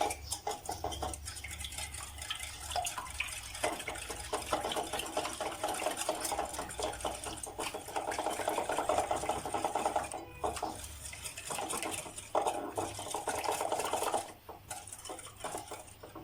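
Whole eggs and yolks whisked in a bowl for crème caramel, a continuous fast clattering and tapping of the whisk against the bowl that runs steadily throughout, close and fairly loud, with no talk.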